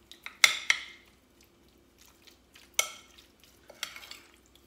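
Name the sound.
mixing chicken with spices in a bowl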